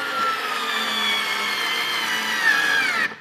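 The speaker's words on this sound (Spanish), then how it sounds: "Seguimos atornillando." A Daewoo 3.6 V lithium cordless screwdriver whirs steadily while driving a screw, its motor note rising slightly near the end before cutting off abruptly.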